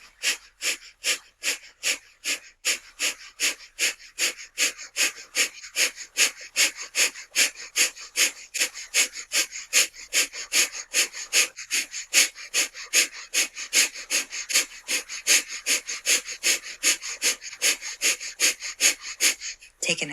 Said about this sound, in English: And breath of fire.